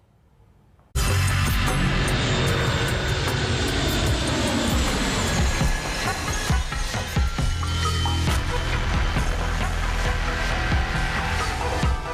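Indian Air Force C-17 Globemaster transport jet on an oxygen supply mission, its engines starting abruptly and then holding a loud, steady roar close by with no talking.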